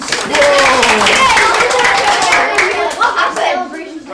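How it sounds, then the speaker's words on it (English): Young volunteers and an audience at an antismoking COPD engagement event give a round of clapping, quick dense hand claps filling the room with voices mixed in underneath. "A round of applause."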